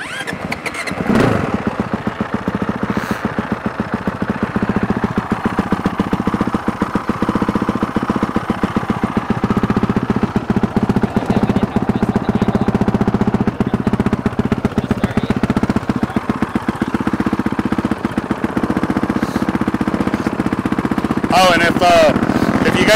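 A 2022 Honda CRF450RWE Works Edition dirt bike engine idles steadily while warming up, a close, continuous loud rumble with a rapid pulsing beat and a brief blip near the end.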